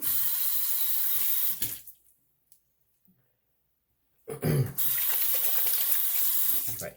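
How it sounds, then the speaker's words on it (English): Water from a tap runs steadily into a sink while a shaving brush is rinsed during a wet shave, with a quiet gap in the middle before the flow resumes just as strongly. "let me rinse this off"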